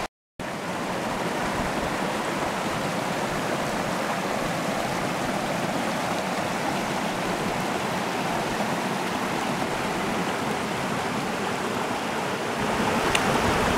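A forest stream flows steadily nearby, a continuous broadband rush of water running unbroken for the whole stretch with no voices, beginning after a brief silent moment.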